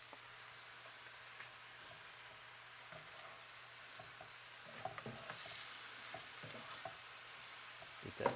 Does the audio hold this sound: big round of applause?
no